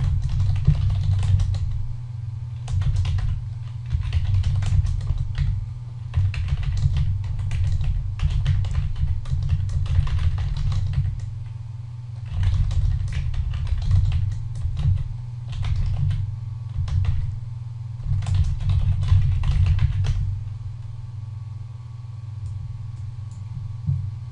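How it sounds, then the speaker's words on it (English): Rapid clicking keystrokes on a computer keyboard come in bursts with short pauses, close and clear over a low steady hum. "So I typed this string in"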